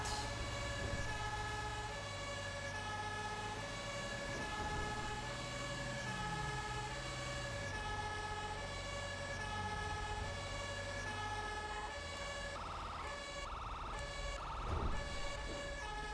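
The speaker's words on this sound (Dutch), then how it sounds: "Het is zo jammer van de sirene." A steady, looping video game fire truck siren from GTA 5 with a synthetic, game-like tone plays continuously over a low engine hum, no voices.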